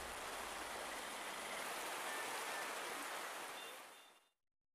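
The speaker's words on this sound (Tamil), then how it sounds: "இந்நிலையில் இன்று மாலை திடீரென கனமழை பெய்ய தொடங்கியது." Heavy evening rain pours down steadily as a dense, even hiss that holds constant, then fades out abruptly at the end, with no voices.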